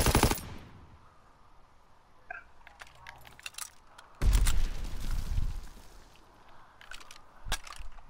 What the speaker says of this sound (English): See, that's a shotgun.